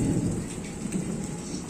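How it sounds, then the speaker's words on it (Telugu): Steady heavy rain pours down outside a house with trees nearby, with thunder rumbling low and continuous beneath the patter, close and fairly loud, and no voices. "బాబు వర్షం చూడండి ఎలా వస్తుందో. ఉరుములు చూడండి ఎలా వచ్చినాయో."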